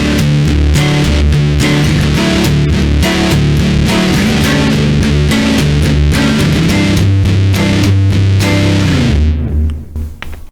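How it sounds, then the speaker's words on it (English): Electric guitar with a thick, Big Muff–style fuzz from a Zoom G1 Four pedal, loud sustained riffing and chord hits that fade out at the end. "this one reminds me of a Big Muff Pie"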